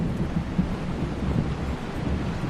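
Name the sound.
heavy rain in film scene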